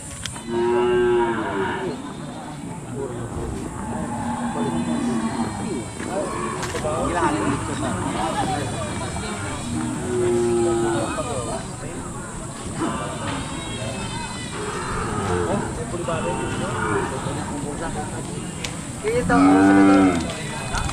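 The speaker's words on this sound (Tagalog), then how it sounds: "May malaking baka dito" Cattle at a livestock stockyard moo repeatedly, several long, loud lowing calls spread through the clip, with people talking and crowd noise around them.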